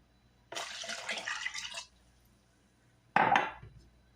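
Water poured into a blender holding raw cashews for homemade cashew milk: a splashy pour lasting about a second and a half, then a pause and a second short, sharper splash, close by with no talking.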